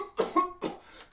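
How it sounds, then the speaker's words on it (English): A man coughs in a few quick, close bursts, three or four harsh hacks in just over a second with short gaps between them. "Sir, please can you stop coughing?"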